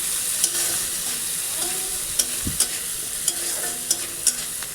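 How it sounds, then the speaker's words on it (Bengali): Garlic and onions fry in oil in a pan for a cabbage dish, a constant sizzle broken by sharp scraping clicks of a spatula stirring at irregular intervals, close up with no talk. "তো রসুনগুলো আগে দিলাম, একটু ভাজা ভাজা হলে তারপর পেঁয়াজটা দিচ্ছি।"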